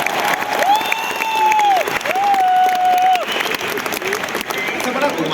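An audience at a poetry recital during an anniversary program clapping in a large hall, a dense wash of applause with some cheering, while a voice carries a sustained tonal sound over it.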